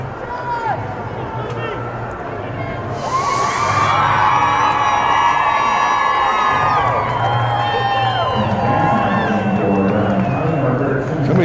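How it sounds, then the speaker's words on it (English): Big crowd at a high school Class 1A boys baseball championship game cheering and whooping loudly, with children shouting. The roar swells after a few seconds and holds steady over the rest of the clip. "Somebody's getting a big cheer down the first base line."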